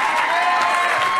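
A church congregation claps its hands during a worship service, dense and loud sustained applause filling the sanctuary.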